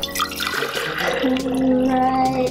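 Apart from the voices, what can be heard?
water poured into a glass or bottle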